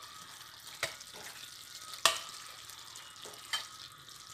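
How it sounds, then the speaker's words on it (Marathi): Fried onion and capsicum being mixed into gravy for restaurant-style paneer chatpata: a faint, steady sizzle with three scattered spoon knocks against the pan, the middle one loudest. "आता आपण त्याच्यामध्ये कांदा आणि ढोबळी मिरची फ्राय करून घेतलेली मिक्स करून घेणार आहोत."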